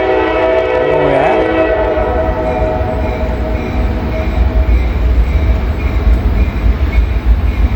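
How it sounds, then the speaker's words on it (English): A passing train sounds its horn in several sustained chord blasts over the loud, rumbling roll of railcars, close and continuous throughout, with the horn fading as the clatter carries on. "Look at this train."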